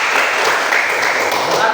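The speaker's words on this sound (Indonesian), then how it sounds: "Tepuk tangan dulu." A school class clapping hands together in a classroom, a loud, continuous wash of many claps lasting under two seconds.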